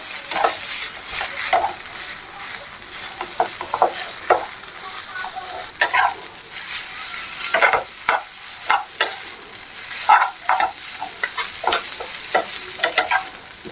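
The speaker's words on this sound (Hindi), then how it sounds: "इस तरह से भून के आप तैयार कर लें।" Maggi noodles stir-fried in a hot pan, with repeated scraping and tossing strokes in an irregular rhythm over a steady sizzle, heard close up and without talk.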